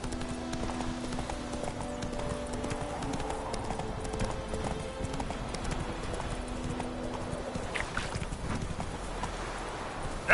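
Horse hooves clip-clopping at a steady rapid gallop in The Witcher video game, a continuous rhythmic pounding heard close throughout, with ambient game sound beneath.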